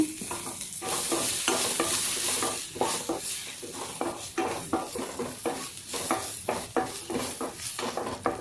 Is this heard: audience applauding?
no